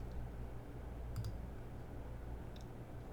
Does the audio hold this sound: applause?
no